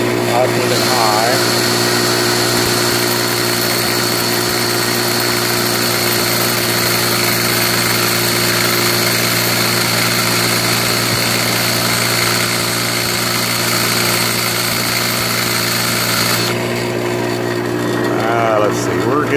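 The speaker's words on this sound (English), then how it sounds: "spin the drill up and high." A power drill, used while fitting VP44 injection lines to a VE rotary pump, spins continuously at high speed with a loud, steady whine that cuts off near the end.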